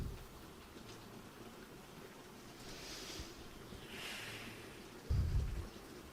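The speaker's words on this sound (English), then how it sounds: "I'm going to work through the rain, if that's okay." Steady rain hissing at low level with soft swells, joined by a brief low thump near the end that could be distant thunder.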